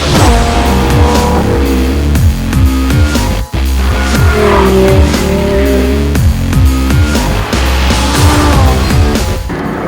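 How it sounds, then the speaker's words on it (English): A Lamborghini Gallardo V10 on a racetrack, its loud engine note rising and falling through revs and shifts in a dense, continuous roar. "let's see what it's doing on the racetrack"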